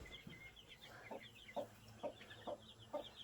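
Soft, repeated clucks from a Rhode Island Red hen tending her chicks, three or four days old, about five evenly spaced calls close by, with faint high chick peeps scattered between them over quiet outdoor farmyard background.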